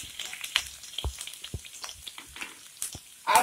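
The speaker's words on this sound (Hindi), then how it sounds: "तेल गरम हो चुका है, उसमें हम कटी हुई लहसुन डालेंगे और इसे चला लेंगे।" Chopped garlic sizzles faintly in hot oil with soft crackles and sporadic scraping taps of stirring, quiet and close, a louder burst at the end.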